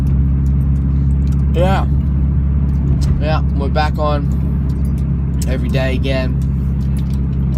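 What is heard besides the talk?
car interior while driving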